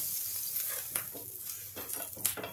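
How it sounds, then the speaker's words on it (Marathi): Water and oil sizzle on a hot griddle while a cloth wipes across it, soft crackling hiss with a few brief sharper swishes, fairly quiet and close. "पाण्याचा शिपका दिला आहे, तव्यावरचं पाणी आणि तेल हे या एका फडक्याने पुसून घेते."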